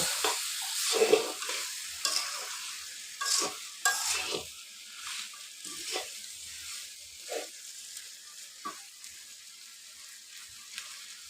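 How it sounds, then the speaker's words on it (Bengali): Fish heads, potatoes and rice fry with spices in a pot, giving a soft sizzle, with intermittent scraping stirs in short bursts that grow sparser and quieter. "মশলার সাথে সবগুলো মাছের মাথা আলু চাল সবগুলো ভেজে নেব"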